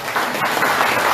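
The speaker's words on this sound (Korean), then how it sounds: "박수로 맞이해주시기 바랍니다." Audience applause welcoming a guest, the regional senior citizens' association branch head, at a community residents' briefing; steady, dense clapping from a roomful of people, close and even throughout.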